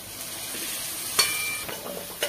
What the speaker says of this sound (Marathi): आता आपण यात बारीक चिरलेला कांदा टाकून घेऊया